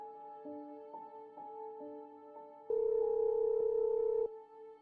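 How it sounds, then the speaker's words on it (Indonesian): Electronic telephone tones sound at stepped pitches, then a louder steady tone holds for over a second before dropping back. No one speaks. "Halo Tia, ada apa telepon pagi-pagi gini?"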